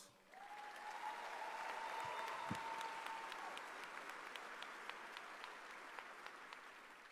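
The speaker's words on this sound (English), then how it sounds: "let's give our graduates another round of applause." A graduation ceremony crowd applauds graduates with sustained, fairly distant clapping that swells quickly and then slowly tapers, with a few sharper claps standing out.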